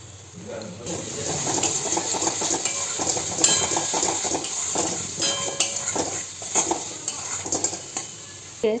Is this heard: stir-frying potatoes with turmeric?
yes